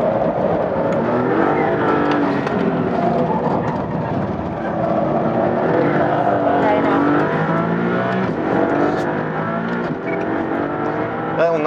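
A Maserati MC20 sports car drives under load with a loud, steady engine note close by, its pitch rising and falling through gear changes with small jolts, while a person talks over it throughout.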